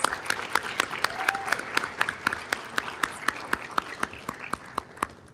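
Rhythmic group clapping at a city council meeting, a crowd clapping together in a steady beat of sharp, evenly spaced claps over a light background of more applause.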